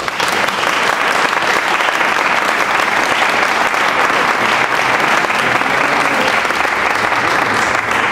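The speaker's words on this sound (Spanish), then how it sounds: "outro aplauso" Audience applause at a tribute to cheesemakers from Grau, dense and sustained clapping at full volume for the whole stretch, a continuous crowd wash with no let-up.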